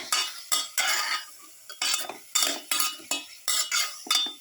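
A utensil scrapes and clinks against a pot as beef pilaf with pepper and garlic is mixed, a run of close, repeated stirring strokes in an uneven rhythm with brief pauses between them and no talking.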